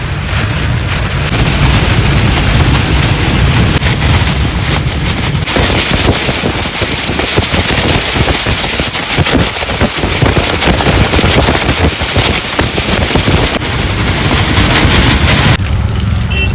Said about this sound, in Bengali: বৃষ্টি চলে এসছে খুব জোরে।